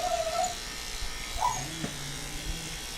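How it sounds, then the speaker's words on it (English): A small dog grumbles in low, drawn-out growls during a grooming session, a steady rumble running through the middle of the stretch with a couple of brief squeaky whines near the start. "Can you guys hear Penny's little growls"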